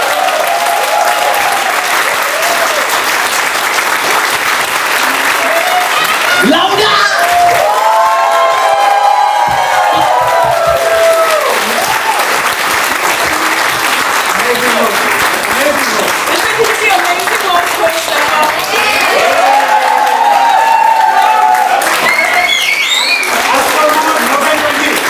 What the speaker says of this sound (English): I need you guys to really applaud all the effort that was put in today by all